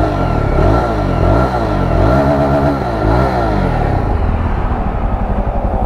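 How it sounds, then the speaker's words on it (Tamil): A Jawa 42 Bobber motorcycle revs through its twin-barrel exhaust, a loud, close engine note rising and falling in several throttle blips before settling into a rough, rumbling idle. "Double barrel exhaust, exhaust note கேட்போமா."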